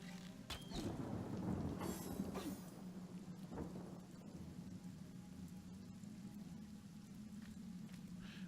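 Steady rain with rumbling thunder in the Divinity: Original Sin game, a constant wash of rainfall with a low rolling thunder swell early on, heard alone without talk.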